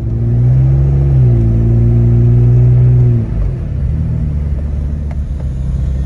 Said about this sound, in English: I'm at operating temperature, just kind of driving around the back lot